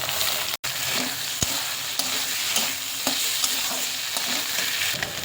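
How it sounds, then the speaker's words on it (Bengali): Potatoes and onions fry in a pan with ginger-garlic paste and spices, giving a steady close sizzle with stirring scrapes and a brief dropout near the start; no one talks. "আলুটা কষা কষা হয়ে গেছে, মশলা দিয়ে ভালো করে কষানো হয়ে গেছে"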